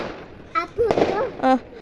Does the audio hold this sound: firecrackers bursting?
yes